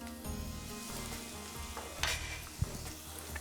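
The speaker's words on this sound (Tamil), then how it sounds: "இப்ப நம்ம இதுல தக்காளி போடணும்." Ginger garlic paste sizzles steadily in a hot pan as chopped tomatoes go in, with a brief sharper crackle and a soft thump partway through, close and continuous without speech.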